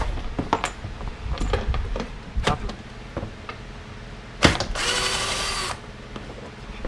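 A power tool removing bumper bolts on a 4th gen Toyota 4Runner, short bursts of whirring and clicks followed by one longer loud run near the end, close up with no talking.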